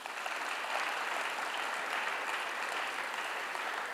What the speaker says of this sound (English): Give your teachers a round of applause also.